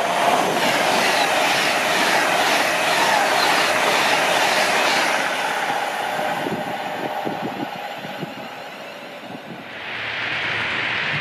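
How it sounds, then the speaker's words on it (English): OO gauge model trains running on a large West Coast Main Line layout at a show, with a steady rolling rumble, rhythmic clickety-clack over rail joints and a brief squeal of wheels near the end. "Multiple trains coming out of multiple different routes on different levels as well"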